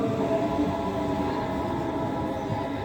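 An S-Bahn S8 commuter train at a German station gives off a steady, close mechanical rumble with a faint tonal hum throughout, loud and continuous with no distinct starts or stops, and no voices.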